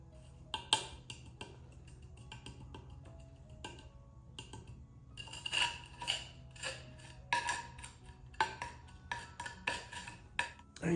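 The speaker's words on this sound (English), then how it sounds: "Let me clean this pot out." A bonsai pot being cleaned out: irregular clinks, scrapes and taps of tools against the pot, quiet and close, coming in scattered clusters that grow busier in the second half, with no talk.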